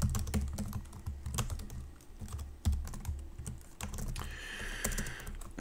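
Steady keyboard typing while code is entered for a C Pong game, with rapid close clicks and key taps in uneven bursts and a brief lighter hiss near the end; no talking.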